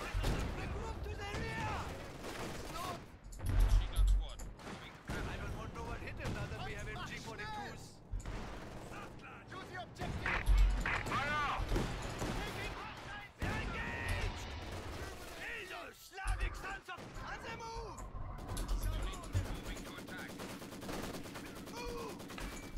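Machine gun fire from an MG team in the strategy game Company of Heroes 2, with dense bursts and battle noise running throughout and in-game voices speaking over the shooting.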